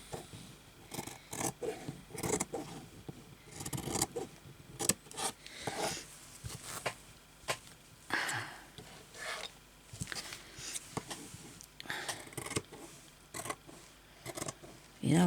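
Scissors snip through fabric for a patchwork needle book in repeated short crisp cuts, close and fairly quiet, with rustling cloth between cuts and a voice speaking now and then.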